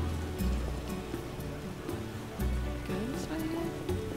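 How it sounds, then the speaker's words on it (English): Steady rainfall in The Witcher role-playing game, a continuous soft hiss of falling drops with a few faint swells, heard alone without speech. "Why must it rain?"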